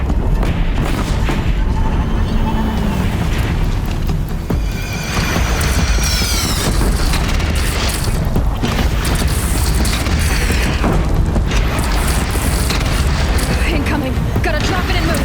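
Cannon fire booms through a video game battle on a platform, with heavy low rumbling and repeated blasts filling the scene under loud, continuous game noise and voices.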